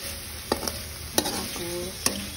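Meat being stirred in a hot frying pan for adobo: a steady close sizzle broken by a few sharp scraping clinks of a utensil against the pan.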